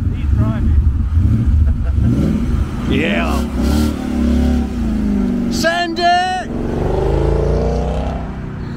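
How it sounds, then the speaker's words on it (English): A 5-litre V8 car engine revs at a motor museum with a loud, deep burble that rises and swells over several seconds, close by, while people talk and call out excitedly over it. "Oh, that's the burble we watch videos for."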